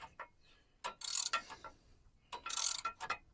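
Ratchet wrench tightening a bolt on a Nissan Frontier, with two separate bursts of quick, close clicking of a few strokes each and quiet pauses between them.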